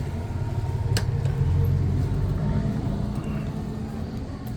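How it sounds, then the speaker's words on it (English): A low, rumbling engine idles nearby, steady and droning, with a brief click near the start and faint background noise. "Look at that truck making all that noise."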